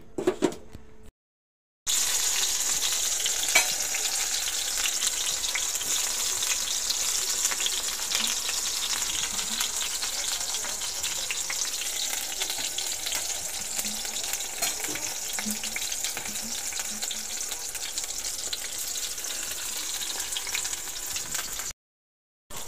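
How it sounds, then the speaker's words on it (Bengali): Eggplant slices fry slowly in a pan with a steady, even sizzle that runs for about twenty seconds, close and continuous, with brief silences at the start and end. "হতে থাকুক বেগুন ভাজাগুলো আস্তে আস্তে করে।"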